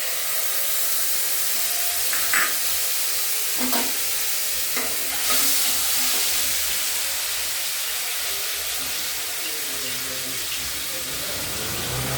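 Green chillies and grated tomato hit a hot pan over a cumin and nigella seed tempering, giving a steady broad sizzle with a few light clinks of utensils, close and continuous.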